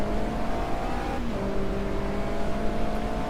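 Steady engine drone of a race car in Automobilista 2 crossing the final corner to the finish, constant and loud throughout with a brief gear shift dip in pitch partway through.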